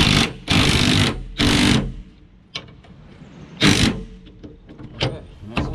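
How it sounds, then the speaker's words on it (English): An impact gun fitted with a 19/16 deep-well socket loosens a nut on a John Deere 1025R with a King Kutter 72-inch finish mower. Three loud, close rattling bursts are separated by quieter pauses with faint clicks. "I'll put a 19/16 deep well on my impact gun."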